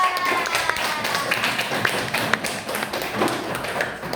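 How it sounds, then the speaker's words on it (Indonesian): Students in a fourth-grade classroom clap for two classmates, a short burst of quick, overlapping hand claps at moderate loudness with some voices mixed in. "tepuk tangan untuk mereka berdua"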